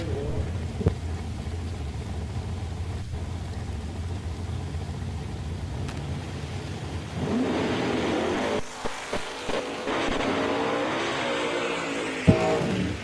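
Drag race cars, an S10 truck and a 1968 Camaro, launch side by side at Woodburn, Oregon, a steady engine drone swelling into a loud, rising roar with sharp bursts near the end.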